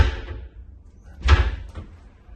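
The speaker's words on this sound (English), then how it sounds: "Actual doors that shut, or a door that shuts here." A shower door in a Disney Wish cruise ship cabin swings shut with one solid thump, followed by a fainter knock, close by in a quiet room.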